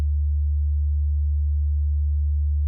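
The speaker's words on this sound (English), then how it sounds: "to fill in those sub frequencies, we have the sub bass here." A steady, loud, deep synthesized sub-bass tone that holds unchanged from start to finish, with nothing else playing.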